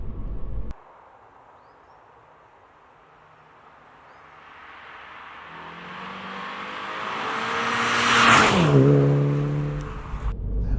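A 2019 Mini Cooper S accelerates hard, its engine note climbing steadily from a quiet start to a loud, high rev before settling, with faint tire and road noise.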